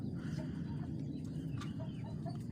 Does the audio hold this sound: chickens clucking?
yes